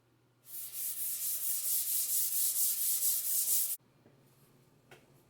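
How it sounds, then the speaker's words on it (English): A steel beer keg barrel being sanded with 120 grit sandpaper gives a loud, steady scraping rasp in rapid even strokes for about three seconds. It then stops abruptly, leaving quiet room noise and one faint knock. "Got all of the major scratches out that I'm going to be able to get out with the machine and hand sanding."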